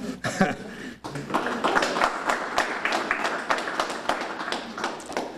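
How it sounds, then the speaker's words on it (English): Staff members and the audience at a local TV station's 2010 annual meeting clap steadily for several seconds. The dense applause is broken by a brief gap near the start, with faint chuckles mixed in. "I think those of you who are here should give yourselves a round of applause"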